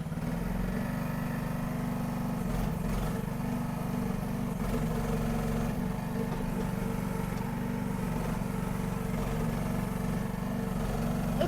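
SDLE18P mini excavator engine running at high RPM, a steady continuous mechanical drone with a low rumble, even and unbroken throughout.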